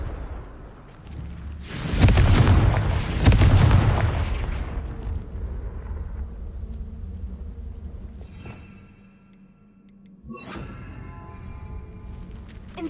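In the video game Hogwarts Legacy, a Confringo blasting spell sets off a loud, booming double explosion that rumbles and fades over several seconds, followed by a sharp crack and ringing, metallic spell effects.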